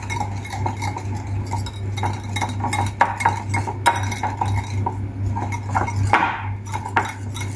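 Utensil clinking and scraping against a bowl while stirring yogurt into egg salad for cucumber boats, a steady run of small taps and rattles over a constant low hum, with a brighter clink near the end.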